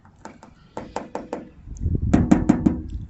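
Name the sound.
knocking on metal door of 1975 Cadillac Fleetwood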